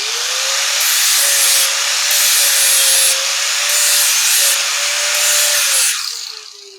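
An angle grinder blends a metal surface in long, steady passes, its high whine and abrasive rasp rising and easing in rhythm before winding down at the end, loud and close with no talk.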